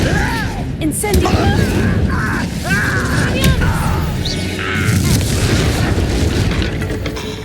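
Spell combat in the Hogwarts Legacy video game, with the Incendio fire spell cast amid booming blasts and crashing impacts that continue for several seconds, while magical whooshes and brief vocal sounds mix in.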